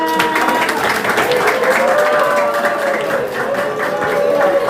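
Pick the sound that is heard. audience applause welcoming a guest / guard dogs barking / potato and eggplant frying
audience applause welcoming a guest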